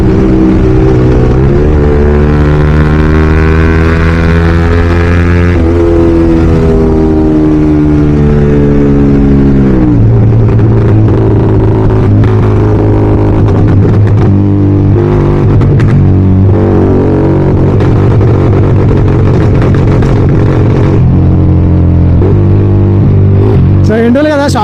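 A Yamaha R15 motorcycle tuned for pops and bangs runs loud and close, its engine note rising and falling through the revs, with brief crackling bursts scattered throughout.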